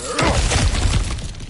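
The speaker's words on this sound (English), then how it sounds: "back to smashing through things for fun and profit" Objects shatter in God of War Ragnarok with a loud close burst of breaking and crunching debris, followed by scattered thuds and settling fragments.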